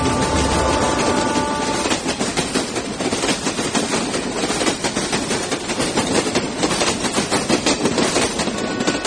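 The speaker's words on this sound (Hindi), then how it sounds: "ट्रेन अभी पुणे बस पहुंची ही थी।" Train arriving at Pune railway station at night: a loud, steady rumble of rolling wagons with rhythmic clickety-clack of wheels over rail joints, continuous throughout with no voices.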